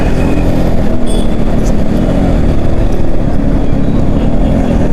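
Dense, loud rumble of engines and tires from heavy road traffic, a constant close wash of vehicle noise with faint horn-like tones.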